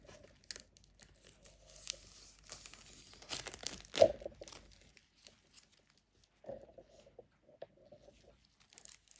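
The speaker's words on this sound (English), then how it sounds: "Trying to get a smooth cut right here into the plastic. Comes some peeling time." Plastic wrap is cut and peeled off a tattoo machine box, giving close, quiet crinkling and rustling with one sharp tearing crackle in the middle and a few softer crinkles afterward.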